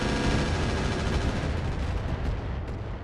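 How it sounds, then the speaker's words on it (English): A light MML missile carrier fires on a medium military building in RogueTech, a dense, continuous roar of launches and impacts that stays loud throughout. "The light MML carrier firing on our medium military building there."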